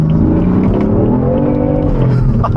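A BMW F80 M3 with a manual gearbox accelerates hard in a loud, close engine pull, its tone climbing steadily in pitch with a strong, continuous drone.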